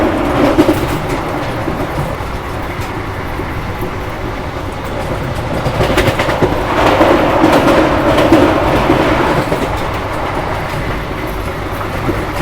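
A passenger train rolls into Unnao Junction station, a loud continuous rumble with rhythmic clickety-clack of wagons over rail joints, steady and close throughout with no voices.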